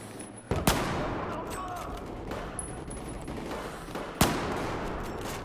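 Long-range gunshots in the video game Battlefield 4, two sharp loud cracks a few seconds apart over a steady low rumble of battlefield ambience.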